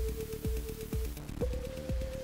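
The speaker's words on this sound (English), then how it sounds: "This is Dither Me Timbers making everything darker way down here." Dither Me Timbers dither plugin noise at a very low level, with a dark character: quiet, muffled music with regular low thuds and a sustained tone, wrapped in a soft, grainy noise floor.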